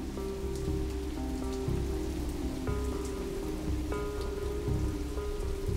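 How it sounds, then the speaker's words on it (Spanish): Torrential rain at night during a storm pours down steadily, a dense constant hiss of heavy drops without pause. "la lluvia que seguía cayendo torrencialmente"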